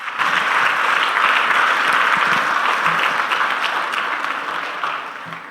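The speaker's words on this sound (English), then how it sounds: "Give yourselves a big round of applause for coming" A large youth-meet audience gives a sustained round of applause, a dense, steady wash of many hands clapping that holds for several seconds and slowly tapers off toward the end.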